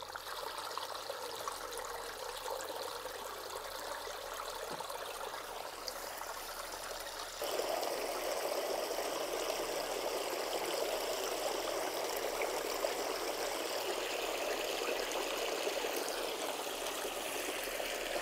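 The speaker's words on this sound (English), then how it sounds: "let's turn this waterfall on, get this back up and running" Steady running water from a garden pond waterfall splashes and trickles continuously, growing slightly fuller partway through, with no voices.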